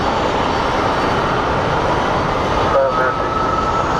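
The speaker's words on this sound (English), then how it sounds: "we have our United Airlines coming in from Chicago" United Airlines jet arriving from Chicago on approach to Sky Harbor International Airport in Phoenix, a loud, continuous engine roar that stays steady throughout.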